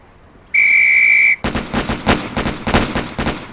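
A sharp, steady drill whistle sounds once for about a second in the Police Quest SWAT range, then a rapid burst of gunshots follows, with loud close cracks in quick succession.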